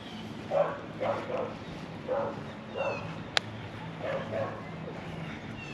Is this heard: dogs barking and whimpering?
yes